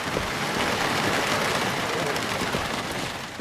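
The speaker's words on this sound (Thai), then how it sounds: "ข้างนอกมองไม่เห็นอะไรเลยครับ เพราะว่า ฝนตกหนักมากอ่ะ" Heavy rain falls outside in the Midnight Prowl horror game, a dense, steady hiss that stays loud throughout and fades slightly at the end.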